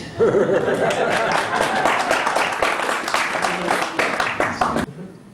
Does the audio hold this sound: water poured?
no